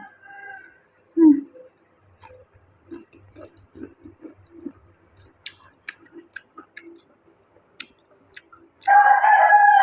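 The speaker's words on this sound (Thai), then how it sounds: "ไก่ก็คันดีจ้า แย่งซีนตลอดเลยจ้ะ" A fighting cock close by lets out one loud crow at the very end, after quiet, scattered clucks and small ticking noises.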